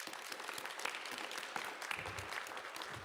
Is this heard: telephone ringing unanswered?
no